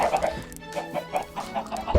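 Several Minecraft chickens cluck in short repeated bursts, a steady rhythmic pecking chatter at close range with no voices over it.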